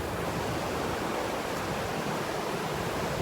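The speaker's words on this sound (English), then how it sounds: "There's an awesome waterfall right behind me here" A waterfall at Banning State Park roars as a steady, dense wash of broadband rushing water, constant and loud throughout with no pauses and no talking over it.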